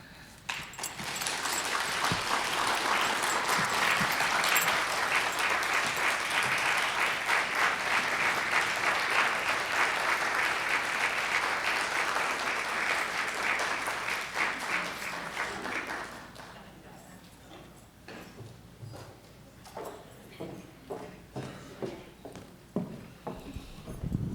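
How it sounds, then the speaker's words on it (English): An audience applauds after a keynote speech at a college event for National Human Trafficking Awareness Day. The clapping is loud and sustained for about fifteen seconds, then thins out into scattered claps. "Let's give one more round of applause to Lisa for sharing her story."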